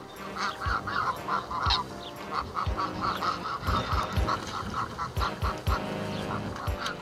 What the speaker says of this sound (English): This corner of the lake appears to be monopolised by a flock of geese, gathering for their morning communal swim.